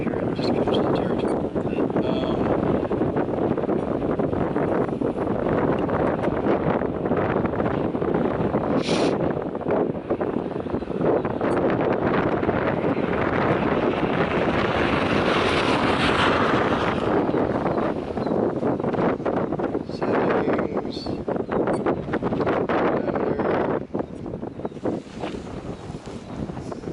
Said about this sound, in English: we've got like 30 miles of wind today. So it's windy out here